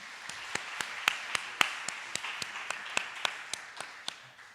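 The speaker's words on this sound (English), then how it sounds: "So just give her a round of applause" A small audience at a university first-year welcoming and orientation event gives sparse, scattered claps, a few dozen distinct hand claps in an uneven rhythm, fairly soft and somewhat distant, with no one talking.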